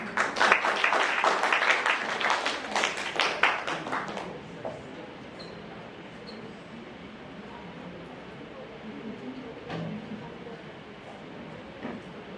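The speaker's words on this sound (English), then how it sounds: "Please give them a huge round of applause." An audience at a mid-term review presentation claps loudly for about four seconds, then the applause fades into a quiet room with low background hum.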